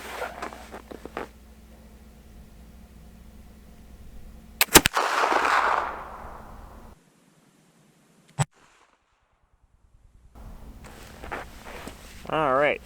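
A single sharp flintlock rifle shot at a target rings out loud and close, followed by a second sharp crack, with quiet spells and someone talking before and after.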